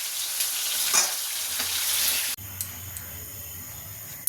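Loud, close sizzling of chicken pieces frying in hot oil in a kadai that abruptly drops to a quieter crackle, with faint clicks and a low hum beneath.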